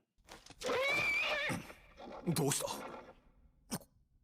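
A horse whinnies loudly and at length in an anime episode, its cry sliding up and down for about a second, followed by rougher snorting and huffing sounds and a short sharp snort near the end.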